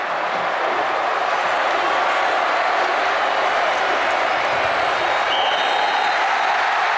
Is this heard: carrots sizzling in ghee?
no